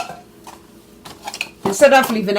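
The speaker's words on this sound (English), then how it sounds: "this is 1 pound of prunes goes into this bowl" A pound of pre-cut prunes is tipped into a bowl while soaking fruit for black cake. Faint handling and rustling comes first, then a short, close, denser clatter and patter as the fruit lands, with no talking.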